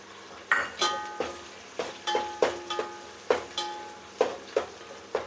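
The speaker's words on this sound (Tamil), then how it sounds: "பூண்டோடு சேர்ந்து நல்லா வதங்கட்டும்" Onion and garlic sauté in a pan for spicy fish curry, a utensil striking and scraping the metal in a steady rhythm of sharp clinks over a faint sizzle, close and alone.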